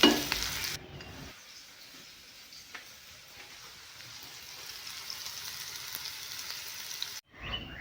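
Salt and turmeric frying in a pan with stirring: a soft, steady sizzle that runs throughout, fairly quiet, with occasional scraping and no talking.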